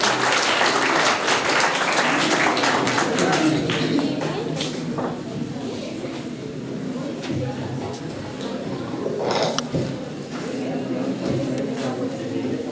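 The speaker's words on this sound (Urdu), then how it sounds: "بھرپور تالیاں بجائیے ایوب جوزر صاحب کے لیے" An audience at a poetry reading applauds the poet Ayub Joseph with loud, dense clapping that gradually thins and fades over several seconds while voices murmur underneath.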